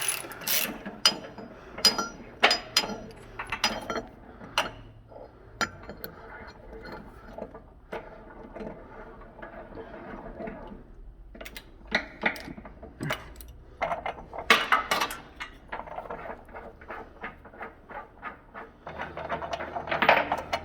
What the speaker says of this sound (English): you can screw that all the way out from the block, clean it, both this and the block that's threaded